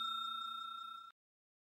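A bright notification ding rings out once, sustained with a clear metallic ring for about a second before cutting off abruptly, alone with no voices.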